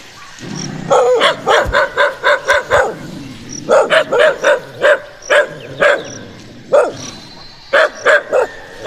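Several dogs bark loudly and close by in rapid, uneven bursts, with short gaps between volleys of sharp yaps.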